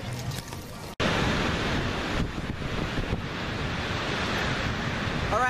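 Ocean surf at Venice Beach, California, waves rushing and breaking continuously up close, with heavy wind buffeting the microphone after a brief opening stretch.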